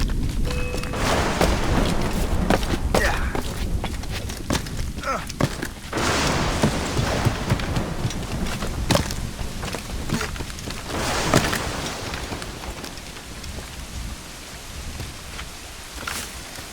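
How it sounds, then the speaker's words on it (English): Steady rain pours through a thunderstorm in Assassin's Creed Rogue, with scattered low booms and crackles rising over the broad wash of rainfall and faint voices underneath. "This storm's getting worse."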